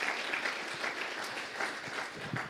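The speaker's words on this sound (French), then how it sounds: "on peut applaudir le Seigneur pour ça" A church congregation applauds together, a steady wash of many hands clapping throughout, moderately loud with no voices over it.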